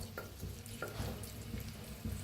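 Crushed garlic frying in a hot oil tempering with cumin, asafoetida and curry leaves: a soft, continuous sizzle with faint stirring scrapes, quiet and close with no voices.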